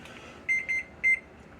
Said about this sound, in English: let me shut this alarm off